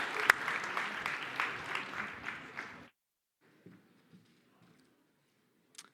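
A school audience claps and cheers at a student council president's speech for about three seconds before it stops abruptly. Faint sounds follow in near silence.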